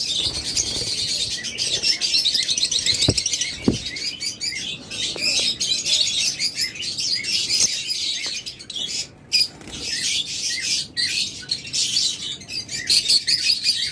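A pair of pet lovebirds, violet opaline and creamino opaline, chirp and tweet in quick, high, repeated calls close by, with a few sharp squawks and flutters over a busy background.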